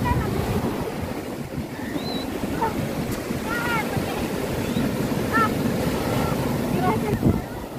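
Ocean waves wash onto a beach at sunset, a steady surf rumble with wind buffeting the microphone and a few distant birds and faint voices scattered over it.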